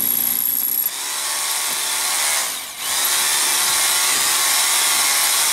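A power drill bores through sandstone brick and the mortar between bricks on the outside of a house. It runs loud, steady and close, with a brief dip in pitch midway, and no one talks over it.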